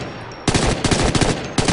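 An ACR rifle fires bursts in the video game Ghost Recon Future Soldier, loud close rapid volleys that start abruptly and repeat in tight clusters with brief gaps.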